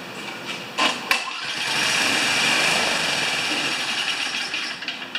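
A Craftsman 5HP snowblower engine with a clogged carburetor coughs with a couple of sharp pops, then catches and runs at a steady, moderately loud idle with slight unevenness, heard up close.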